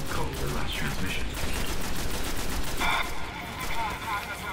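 Rapid automatic gunfire from a weapon in the PS4 game Destiny, loud dense bursts of shots with a sustained electronic tone joining near the end.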